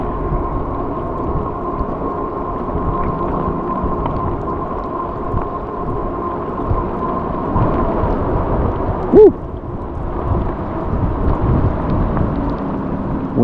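Steady broadband wash of rain during an e-bike ride, over a low rumbling background, continuous throughout with a brief sharp tonal squeak partway through.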